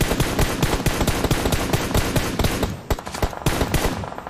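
Rapid automatic gunfire in the PUBG battle royale game, a dense run of sharp shots in steady bursts that keeps going throughout, loud and close, with no talk over it.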